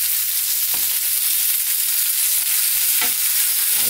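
Hairtail fish pan-frying until golden on both sides, a steady loud bright sizzle of hot oil with a few soft scraping or stirring touches, close up and with no talking.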